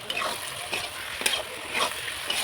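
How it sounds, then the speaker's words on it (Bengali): Cut potatoes tossed into spice paste frying in oil for a village-style fish curry with potato and eggplant: a bright, steady sizzle with soft stirring scrapes pulsing through it, close and fairly loud. "এবারে আমি কেটে রাখা আলুগুলো দিয়ে দেব"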